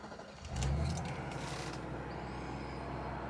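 A 1986 Mercedes-Benz 560SEL W126 cranks and catches about half a second in with a deep burst, then settles into a steady low idle close by, with faint bird chirps in the background.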